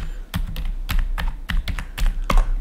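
Quick, uneven clatter of keystrokes as a password goes in on a computer keyboard, close and crisp, about a dozen sharp taps with short pauses and no talking.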